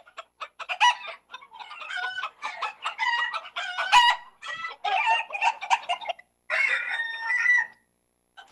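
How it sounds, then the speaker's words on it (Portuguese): Ornamental rooster and hens at a Santa Catarina poultry farm cluck busily and close by, with dense overlapping calls in short bursts, a louder flurry near the end and a brief quiet gap before it. "Esse que tá vindo aí é o galo, ó."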